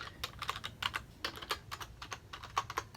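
Quick, uneven clicks of typing on a computer keyboard, close and fairly quiet, with bursts of keystrokes and brief pauses and no one speaking.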